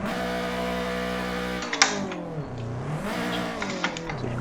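Sim racing video game car engine running at high revs, bouncing off the rev limiter in a rapid stuttering drone, with brief clicks and small pitch dips throughout.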